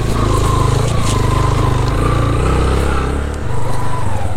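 A motorcycle engine labors loudly and steadily uphill on a mountain road, its low droning roar sustained throughout with a slight dip near the end, close up and without talk.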